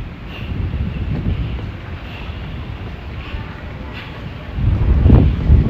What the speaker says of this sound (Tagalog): mahangin din dito